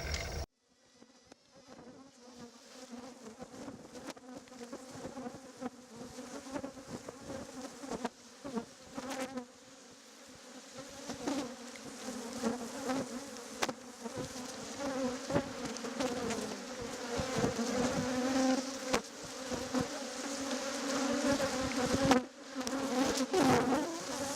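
Native stingless bees kept for honey production buzz steadily and close, a dense continuous drone with wingbeats that grows gradually louder over the span, with no voices.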